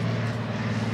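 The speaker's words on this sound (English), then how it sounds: "Another plane." An airplane passes overhead near a pier in St. Petersburg, Florida, a steady low propeller-like drone that is moderately loud and heard alone for under a second.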